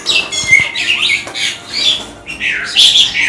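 A young Bali starling and hill myna hybrid gives harsh, repeated squawking calls at close range, bursts of rough chatter coming in uneven clusters with short gaps.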